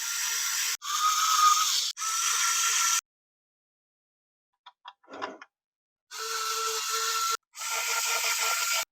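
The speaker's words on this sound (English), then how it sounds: "I'll pop some more screws in." An electric screwdriver drives screws into a dart blaster shell in short whirring bursts of a few seconds each, with a quiet gap broken by small plastic clicks and rattles.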